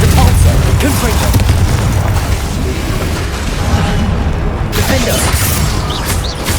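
Spell blasts in a Hogwarts Legacy video game boss fight against an ancient titan, loud booming impacts and bursts layered into a constant heavy roar, with brief sharper hits near the end.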